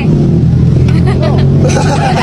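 A pickup truck carrying people in its open back on the road toward the Mount Kerinci trailhead, with a continuous engine and road rumble under loud, overlapping voices chatting nearby.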